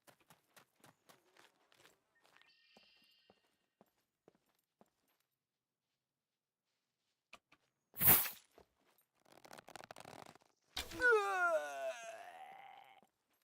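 In the survival game SCUM, an approaching enemy's footsteps sound as a regular series of soft, quick thuds that fade out, followed after a pause by a sudden loud crack and some harsh noisy bursts.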